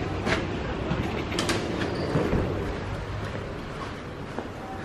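A Sofia metro train rumbles along the rails nearby with steady low clatter and occasional squeals, a continuous moderately loud wash with no talk.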